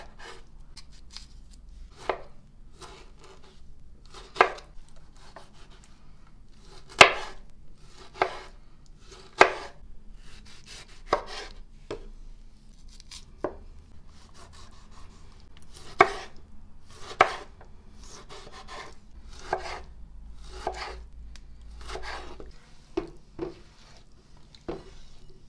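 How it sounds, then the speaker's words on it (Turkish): A knife chops tomatoes on a cutting board in a steady series of sharp, close taps, roughly one or two per second, over a quiet background. "Önce domatesimizi doğruyoruz."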